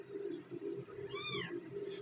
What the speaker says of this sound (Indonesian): Anak kucing yang segitu tuh 3 hari baru lahir soalnya.